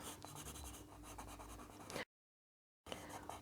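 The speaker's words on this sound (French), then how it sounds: "On va colorier en vert clair les pétales." Watercolour pencils (Faber-Castell) colouring clover leaf petals light green on paper, a close, steady scratchy rubbing that continues for about two seconds, stops briefly, then resumes.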